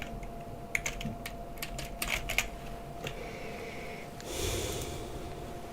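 Quick bursts of computer keyboard typing, close and fairly crisp, in uneven clusters over a steady background hum, with a short rustle near the end.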